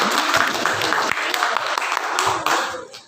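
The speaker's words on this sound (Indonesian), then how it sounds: "tepuk tangan untuk kita semua" An audience claps at a teaching seminar, a brisk, fairly close burst of applause that swells and then fades out near the end, with voices mixed in.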